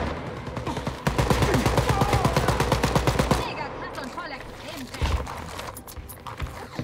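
In the video game Wolfenstein: Youngblood, rapid bursts of gunfire rattle loudly, then a deep boom from a grenade explosion, with scattered shots and voices talking over the game action.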